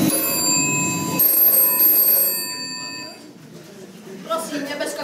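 A telephone bell rings in sustained bursts during a Slovak school nativity play, loud and close, fading out midway as voices and stage noise take over.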